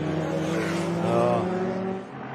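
A Queensland production race car circles Morgan Park Raceway, its engine droning steadily with a rising tonal note as the tyres scrub through understeer, then fading slightly at the end.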